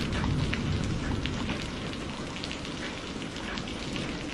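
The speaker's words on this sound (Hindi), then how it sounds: "कितनी देर से बारिश आ रही है, रुकने का नाम ही नहीं ले रही।" Heavy rain falling at night, a dense steady hiss of drops striking surfaces with no letup, loud and continuous throughout.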